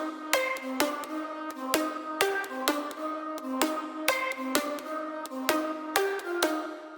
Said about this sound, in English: For the outro I spontaneously created a little pluck melody with a view of my plucks in Serum.